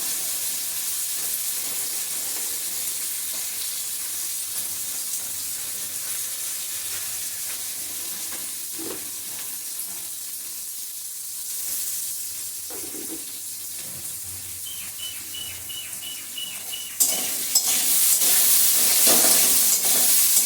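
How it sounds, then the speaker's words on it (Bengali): Potatoes fry in hot oil seasoned with salt and turmeric, giving a steady, close sizzling hiss that swells louder and brighter near the end. "একটু নুন হলুদ দিয়ে আলুটাকে ভেজে তুলি।"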